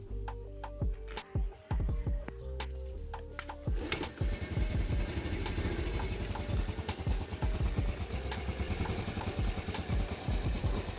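A Yamaha Vega R motorcycle engine with smooth-running condition idles close by, a steady low putter beginning after a few seconds of clicks and brief tones, then holding at an even rhythm to the end.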